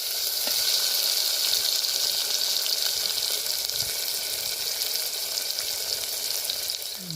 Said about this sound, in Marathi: कांदा टोमॅटो हे सगळं लसूण भाजत घातलेलं थोडे वेळ आणि त्याच्यानंतर आता बघा तेल टाकून घेतलंय